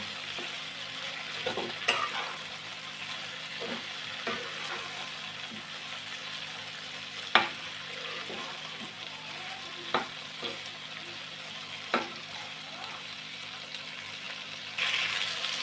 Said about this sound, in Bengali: বরবটিগুলো ভাজা হয়ে গেছে